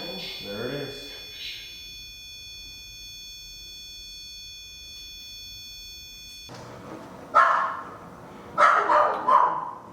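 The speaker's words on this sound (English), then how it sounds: "Puppy." A dog gives a few sharp barks in short bursts near the end. Earlier there is a steady high electronic tone with faint voices.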